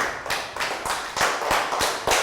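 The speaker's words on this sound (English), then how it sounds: "Round of applause for everybody for following the lesson." A primary school class claps in unison, several sharp, evenly spaced hand claps in a steady rhythm, close and fairly loud, with no talking.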